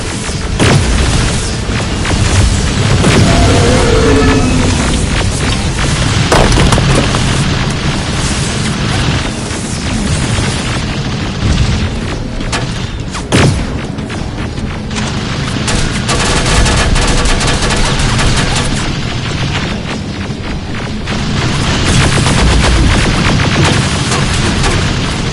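Heavy gunfire and booming explosions fill a firefight in Terminator Resistance, with loud blasts and rapid bursts going off continuously, close and dense, with brief quieter gaps.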